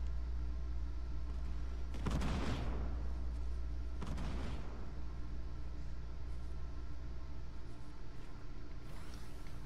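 Gunfire bursts in a Fortnite Battle Royale match, two heavy clusters of shots in quick succession over steady game ambience, with a fainter burst near the end.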